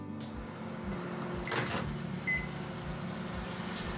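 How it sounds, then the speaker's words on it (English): A microwave oven runs steadily with a low mains hum while heating mozzarella cheese curd, a brief beep-like tone sounding midway, close and alone with no talk. "now get it back into the microwave for 10 seconds and this will be the final one."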